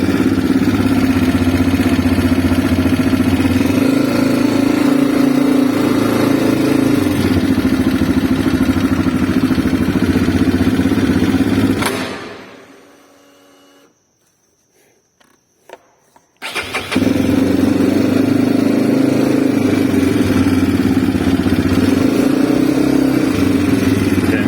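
A CSC RX3 motorcycle engine runs at a steady close idle, stops abruptly into near silence for a few seconds, then restarts and settles back to the same even idle.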